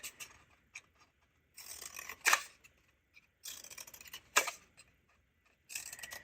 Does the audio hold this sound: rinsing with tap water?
no